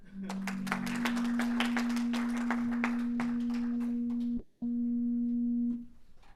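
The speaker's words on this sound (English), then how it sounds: "Round of applause for that, please." An audience at a Toastmasters open house meeting at Oracle claps steadily for several seconds, dense applause under a sustained electronic tone, cutting off abruptly before a short final burst.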